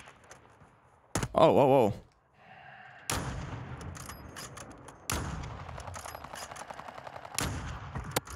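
Sniper rifle fire in a first-person shooter video game: a few sharp, loud reports with ringing tails and some mechanical clatter between shots, while a player exclaims in surprise.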